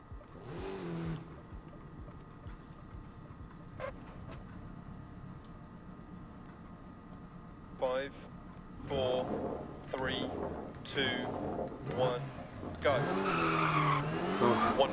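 Peugeot 205 T16 Evo 2 rally car in the DiRT Rally video game on a sunny Monte Carlo stage, engine droning and revving with tyre skids and squeals building in the later part, someone talking over it.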